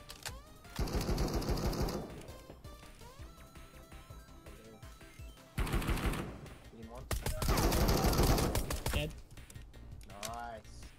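Machine gun fire in the shooter game Marauders: three loud, rapid bursts of shots separated by quieter stretches, with a short trailing burst at the end.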